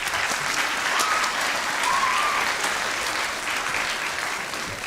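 An audience at a high school Black History celebration claps steadily, a dense and sustained round of applause that fades slightly toward the end, with a few faint voices underneath.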